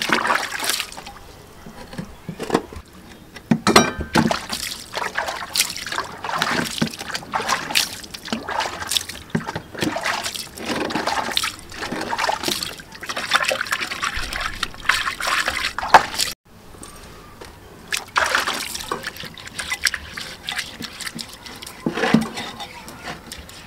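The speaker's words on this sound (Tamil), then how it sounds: "நல்லா இந்த மாதிரி கை வச்சு கழுவுங்க." A new iron vessel is scrubbed by hand under water, giving irregular splashing, trickling and rubbing sounds close by that keep on throughout with one brief pause, and nobody speaks.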